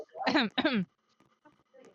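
Someone coughs twice in quick succession, close and fairly loud, followed by faint background sounds.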